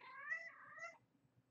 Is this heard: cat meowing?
yes